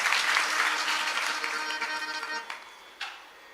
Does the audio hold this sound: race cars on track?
no